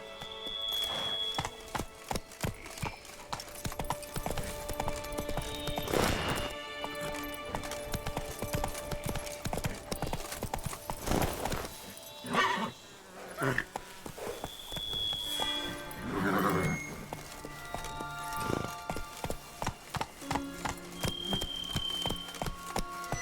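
Roach, a horse in The Witcher 3, trots and gallops with rhythmic clip-clop hoofbeats on hard ground, steady and close, with a few whinnies and snorts mixed in and no talking.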